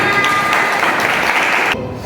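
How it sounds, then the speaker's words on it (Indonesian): Brief burst of classroom applause from students in an Indonesian lesson, dense and close, cutting off abruptly near the end. "Tepuk tangan untuk kita semua."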